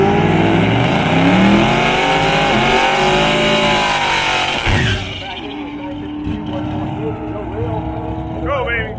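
A Buick drag race car roars loudly with strong engine harmonics, the pitch shifting as it pulls away down the track, then fades into quieter ambience as a voice talks over it.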